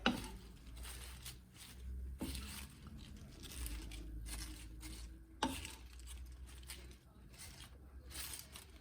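Fresh spinach tossed in a pan with a vegan egg scramble and mushrooms: soft rustling and patter with faint sizzle, a few sharper scrapes of the utensil, steady and close.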